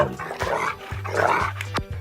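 A dog barks loudly several times at close range, with short gruff barks repeating in a quick, uneven rhythm.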